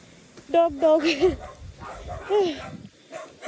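A dog gives a few short, high yipping barks close by at night in the Philippines, mixed with people talking.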